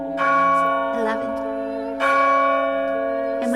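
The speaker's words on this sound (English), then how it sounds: "As the bell's last pealing faded into silence, the tower door swung open." A tower bell chimes in the visual novel The House in Fata Morgana, two loud, sustained metallic strikes about two seconds apart, each ringing on with a long, shimmering decay.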